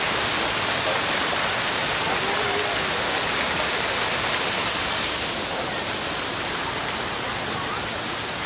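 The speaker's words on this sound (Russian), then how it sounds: "Под водопадом." Steady, dense rushing water roars continuously from a waterfall at a zoo, filling the whole stretch with loud broadband noise.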